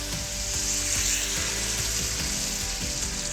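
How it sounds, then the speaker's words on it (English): Rice and chicken sizzling steadily in a hot pan, a constant crackling hiss with small pops and occasional stirring scrapes, close and unaccompanied by speech. "now everything is starting to sizzle and simmer"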